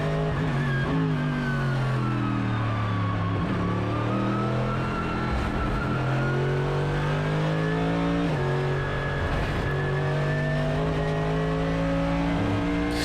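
A race car engine in a racing video game drones steadily throughout, its pitch rising and falling through gear changes, loud and continuous with no talk over it.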